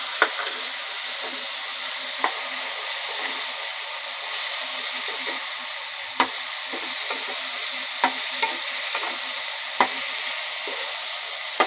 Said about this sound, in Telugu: ఉల్లిగడ్డలు అన్నీ వేసి పోపు గింజలు వేసి మనం ఇలా పోపు పెట్టిన తర్వాత దీంట్లో కొబ్బరి పేస్ట్ వేయాలండి